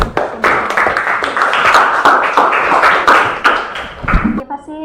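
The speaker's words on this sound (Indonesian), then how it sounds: "Tepuk tangan lagi untuk semua." Classroom applause from students, a burst of clapping that swells and holds for several seconds, fairly close and loud, mixed with voices.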